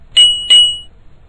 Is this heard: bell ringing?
yes